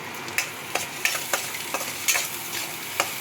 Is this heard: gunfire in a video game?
no